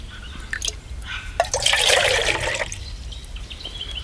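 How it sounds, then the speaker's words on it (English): Water poured into a large pot while measuring enough for a cup of coffee, a soft splashing gush that swells for about a second and then fades into faint trickling. "Let's put some water in."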